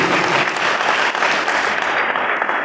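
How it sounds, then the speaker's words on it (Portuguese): A church congregation at a Friday night service claps loudly and steadily in praise, a thick, close wall of palms that barely dips. "Pode louvar o Senhor nas palmas bem forte"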